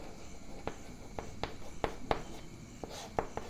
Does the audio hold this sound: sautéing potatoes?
no